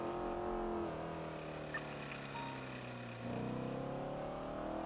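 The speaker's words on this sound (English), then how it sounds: "Sorry, my car sounds like shit." A car engine in GTA 5 roleplay runs loud and rough, droning steadily at a low pitch, then dipping and rising again as the revs change, with no voices over it.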